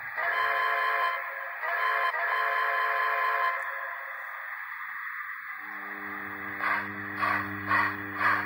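A dead-rail model train's onboard sound system sounding its whistle, a steady multi-tone blast held for several seconds, then a lower chime-like tone with short repeated toots near the end.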